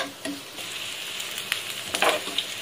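Sliced onions soften in hot oil left in a pan after frying potatoes for chicken curry, giving a soft continuous sizzle with crackling pops and a few brief stirring scrapes close by.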